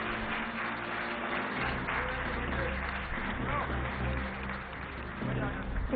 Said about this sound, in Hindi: एक बार जोरदार तालियां हो जाए तीजन बाई जी के लिए